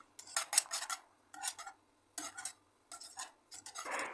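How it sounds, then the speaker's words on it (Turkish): Spoon scraping and clinking against a pot while white chocolate and vanilla are stirred into thickened cream for profiterole filling, in uneven bursts of close, moderately loud strokes with short pauses between. "50 gram beyaz çikolata ekleyelim ve çikolatamız eriyene kadar karıştıralım."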